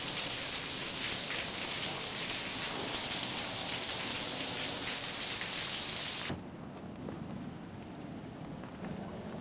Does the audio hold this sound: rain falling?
yes